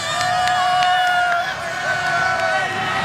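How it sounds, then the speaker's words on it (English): A crowd cheers and roars steadily at a sold-out high school football game between the Centennial Titans and Frisco Raccoons in Texas, a dense sustained wash of voices with a shrill whistle-like tone riding on top. "Good crowd on hand tonight."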